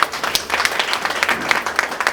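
Audience applause at an RCM business success-story gathering in India: a dense, steady wash of many hands clapping at once, loud and close, with no one talking over it for the full two seconds.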